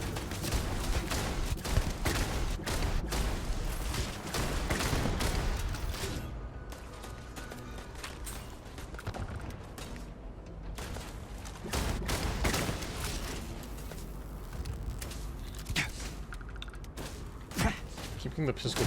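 Gunfire at a firing range in Starfield: Shattered Space pops in scattered shots and short volleys through a noisy stretch, moderately loud, with footsteps and a voice talking over parts of it.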